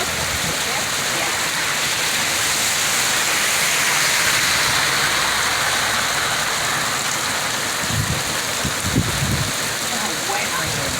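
Heavy rain pours steadily during Storm Elsa, a dense, constant hiss close by with water streaming down, and a few brief low thumps near the end.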